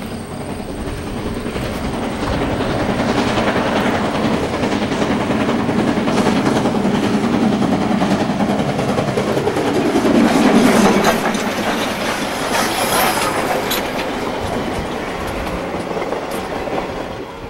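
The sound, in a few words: Soo Line steam locomotive doubleheader train passing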